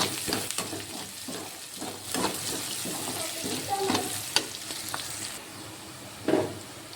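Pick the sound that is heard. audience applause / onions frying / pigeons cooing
onions frying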